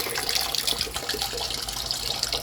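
Water runs steadily into an appliance being tested during a repair, giving a close, continuous splashing and trickling rush with no one speaking.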